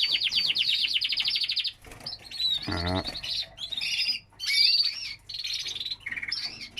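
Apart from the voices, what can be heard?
canaries chirping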